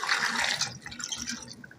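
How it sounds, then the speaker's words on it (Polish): Water poured into a pot over broth ingredients of a few leaves and allspice grains, a short splashing, trickling pour heard up close for under two seconds, fairly quiet. "I zalewamy wodą"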